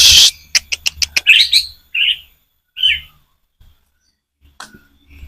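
Pet songbirds, including a canary, chirp loudly and close by in a quick run of sharp tweets and warbled notes, followed by short pauses and a few scattered calls.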